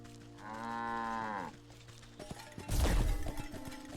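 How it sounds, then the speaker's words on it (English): A cow in the video game Wytchwood gives one long, drawn-out moo, followed by a loud smash and clatter over steady game background sound. "Moo."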